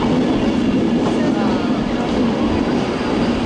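A London-bound train at the platforms of Manchester Piccadilly station gives a steady, close rail rumble and carriage noise.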